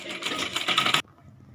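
A sewing machine stitching lehenga panels together runs in a fast, even whirring chatter for about a second, then stops sharply, leaving a quiet hum.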